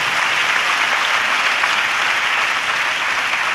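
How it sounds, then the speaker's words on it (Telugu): A church congregation claps loudly and steadily in praise, a dense, continuous wash of hands filling the whole stretch with no voices on top. "గట్టిగా చప్పట్లు కొడుతూ ప్రభుకు స్తోత్రాలు చెప్తాం."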